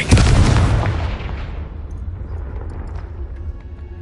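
A Confringo fire blast spell in the Hogwarts Legacy video game goes off as one loud booming burst and then dies away into a low fading rumble, with no voices.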